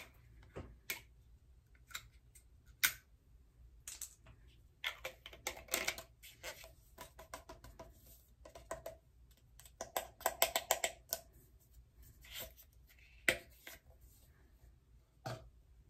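Crinkly plastic packaging of cotton pads is opened up close in quiet surroundings, with irregular crackling bursts, sharp ticks and rustles separated by near-silent gaps.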